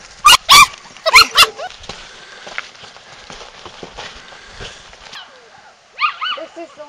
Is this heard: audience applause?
no